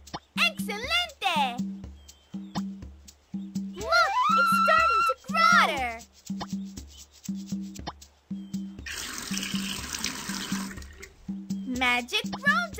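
Cartoon watering of a garden, a burst of dense splashing water noise in the middle, surrounded by sung cartoon voices with music and plinking drip-like effects.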